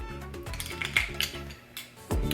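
Clinking of a spoon or stirrer against a glass while a tequila cantarito drink is mixed, a few light metallic chinks and rattles close by, with a bright ping near the middle and a louder clatter at the end.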